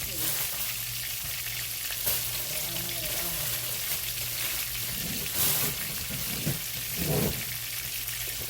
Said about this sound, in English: while this fish is cooking